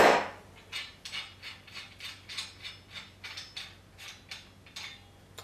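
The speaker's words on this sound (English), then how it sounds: "Now it's just a matter of removing the tool from the crank." A crank puller tool is unscrewed from a square-taper BMX crank arm with a rapid run of regular metallic ratcheting clicks, close and crisp, about two per second, with no voices.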